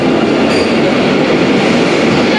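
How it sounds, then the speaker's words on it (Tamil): Nagercoil–Chennai Egmore Vande Bharat train arriving at a station platform: a loud, steady, close rumble and rush of the passing train that holds without break throughout, with no voices. "நம்ம நாகர்கோவில் சென்னை எக்மோர் வந்தே பாரத் வந்து பார்த்திங்கன்னா 6th பிளாட்ஃபார்மில் அரைவ் ஆகிட்டு இருக்குது"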